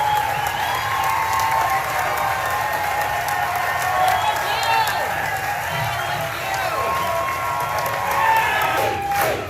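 Crowd noise at a campaign rally, a steady wash of cheering and clapping under a nearby voice that keeps talking throughout.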